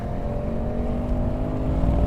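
A 2018 BMW M550i xDrive accelerates at full throttle, a steady, strong engine drone with sustained tonal hum heard from inside, building slightly toward the end.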